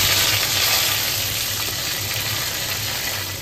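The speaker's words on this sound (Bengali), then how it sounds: "তেলটা মোটামুটি একটু গরম হয়ে আসলে আমি গোটা গরম মশলাটা দিয়ে দেবো" Whole garam masala of cinnamon, cardamom, cloves, bay leaf and a dried chilli fries in hot mustard oil, producing a steady, fairly loud hiss that fades slightly toward the end.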